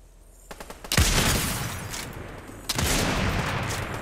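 Gunfire in the Fortnite video game: a few light taps, then a loud burst of rapid shots that trails off before a second heavy volley, close and forceful.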